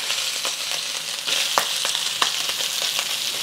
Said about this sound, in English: Okay, I'm going to push the pork to the side. I'm going to add my onions.